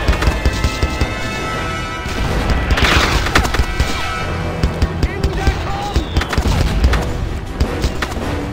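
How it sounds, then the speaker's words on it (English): Machine gun fire in the iPhone war game Brothers in Arms 2, rapid loud bursts and booming impacts in a chaotic battle mix, with shouted voices over it. "Get on that MG! Keep on shooting!"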